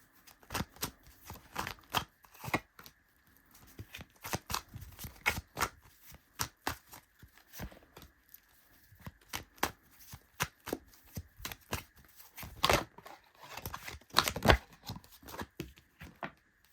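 Tarot cards shuffled and picked by hand during a pick-a-pile reading, a close run of crisp riffling and slapping bursts in irregular clusters across the whole stretch, with no voice over them.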